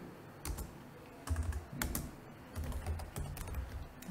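Computer keyboard typed in short bursts while renaming an activity in UiPath RPA software, close, quiet clicking keystrokes with brief pauses between groups, no talking.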